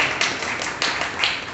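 Steady clapping from an audience honouring a teacher at an award ceremony, a continuous dense patter of many hands with a few sharper claps standing out, no voices over it.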